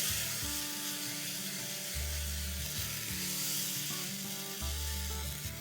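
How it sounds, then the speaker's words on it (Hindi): Ground tomatoes fry in a pan for chicken bharta with a continuous sizzle. Rhythmic scraping and clanking of stirring recur through it. "अब डालेंगे पिसे हुए 3 या 4 टमाटर। इसे अच्छे से चला लेंगे।"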